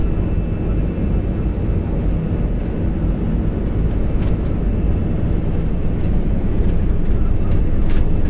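Airbus A320 jet engines roar loud and steady during the takeoff roll, heard from the cockpit as a constant broadband rumble with faint higher whine and no speech.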